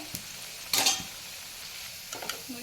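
Mixed groundnut garelu (lentil vadas) sizzling softly in hot oil, with a couple of sharp clinks and scrapes as a utensil flips them over.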